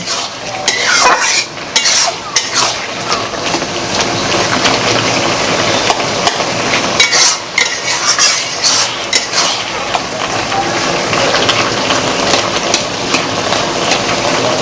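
Taro leaves and rohu fish head stirred in a frying pan, scraping spatula strokes and metal clinks over a constant sizzle, close and busy.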